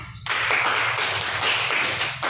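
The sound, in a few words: classroom clapping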